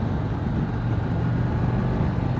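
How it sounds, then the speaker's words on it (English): Harley-Davidson motorcycle exhaust while riding, a steady low, rumbling drone with even, continuous intensity throughout, heard close up with a fairly tame tone. "It sounds pretty good. I mean, the exhaust is tame."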